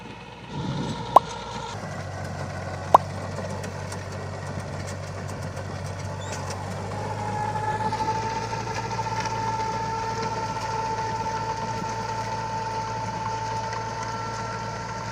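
A tractor working rice paddy land in Dayah Mon Ara, Kembang Tanjong, tilling soil into raised planting beds, gives a steady low engine drone that runs throughout, with two sharp clicks early on and a brighter whine rising midway.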